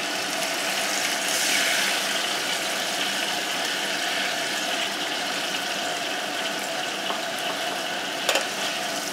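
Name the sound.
pouring pasta water into the pan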